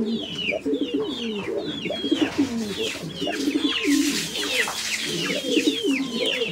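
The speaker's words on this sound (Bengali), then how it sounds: "ভাই কবুতরের কোয়ালিটি আর ডাকগুলো দেখেন" A crowd of pigeons at a sale coos continuously in overlapping throaty rolls, while higher chirps and calls rise above them, all close and fairly loud.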